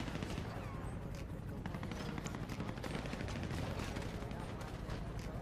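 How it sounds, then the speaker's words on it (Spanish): Video game gunfire, heard as dense automatic bursts and distant explosions in a continuous battle din, with voices mixed in. "Muy bien, me están disparando."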